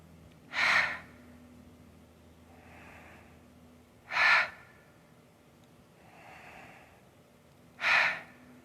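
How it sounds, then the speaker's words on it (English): During a yoga session, slow breathing through the nose and out through the mouth: three sharp, audible breaths spaced evenly about every three and a half seconds, with softer, airier breaths between them, close and quiet. "you may want to inhale through your nose and exhale through your mouth"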